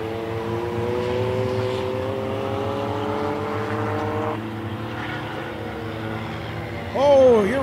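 Dirt-track race cars roar around the track, their engines droning with slowly climbing pitch before one fades and a louder, sharper engine surge bursts in near the end.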